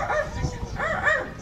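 A pet bird imitates the bark of a ferocious dog, giving two short bursts of harsh, bark-like calls close up; the voice is the bird's mimicry, not a real dog.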